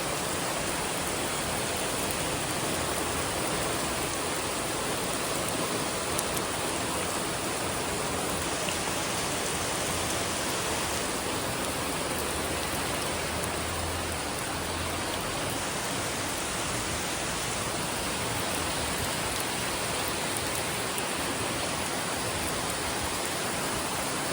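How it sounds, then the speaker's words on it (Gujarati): Rain falls in a steady, unbroken wash of soft hiss that stays even in level for the whole stretch, with no voices. "વરસાદ ચાલુ થઈ ગયો છે."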